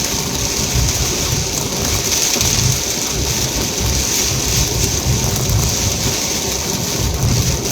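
Heavy rain pours down during a thunderstorm with a shelf cloud in June, a loud, dense and unbroken roar that holds steady throughout.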